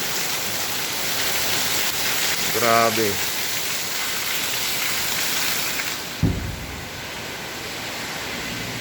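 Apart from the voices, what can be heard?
heavy rain and strong floodwater near a church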